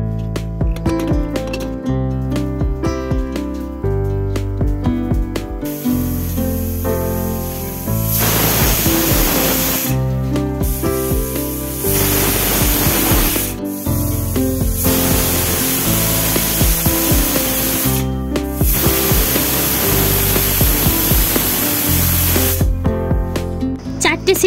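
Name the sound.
pressure cooker whistling on high gas flame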